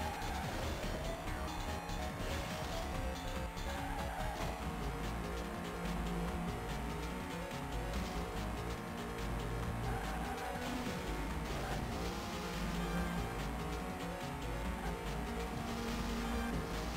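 Race cars in the Game Boy Advance game Hot Wheels World Race hum with a continuous buzzing engine drone over looping game music, steady for the whole stretch.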